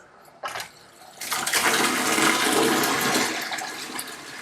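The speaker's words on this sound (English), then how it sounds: "water is gushing out with a lot of force" Water from a Kent bathroom water softener during regeneration bursts out with a loud, forceful rush that follows a short thump, then keeps gushing steadily and close by without easing.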